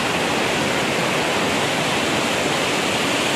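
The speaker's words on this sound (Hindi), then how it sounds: "और नीचे देखिए कितनी तेज धाराएं गिर रही है" Strong mountain streams in the Uttarakhand hills near Hemkund Sahib, swollen by hours of overnight rain, rushing downhill in a loud, steady, unbroken roar of falling water close by, with no voices.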